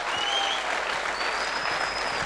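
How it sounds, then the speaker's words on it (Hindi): At a business speech event, an audience claps in a dense, steady burst of applause at moderate level, with a faint whistle or high tone threading through the clapping. "मैं चाहूंगा एक जोरदार तालियां होनी चाहिए उनके लिए"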